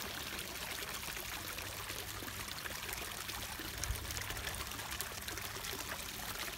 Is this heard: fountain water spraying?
yes